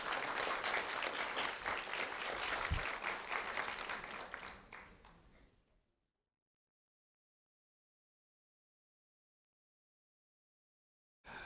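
Applause from an audience honoring Kapasia Johnson at a Lee County Sheriff's Office recognition event, a dense steady clapping that lasts about five seconds, fades out, and leaves silence.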